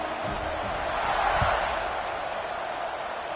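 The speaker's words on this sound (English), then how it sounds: "this crowd is buzzing after that last score" Football stadium crowd at a Canes game after a score, a steady broad murmuring buzz that swells slightly midway, heard from a distance.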